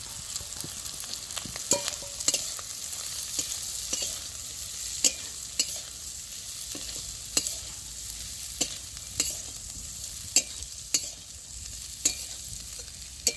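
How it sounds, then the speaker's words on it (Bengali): Bitter melon sautéing in a pan, a steady close sizzle of frying with regular stirring scrapes and light knocks from the spatula throughout. "এবার করলাটা দিয়ে ভালো করে আমি কষিয়ে নিচ্ছি।"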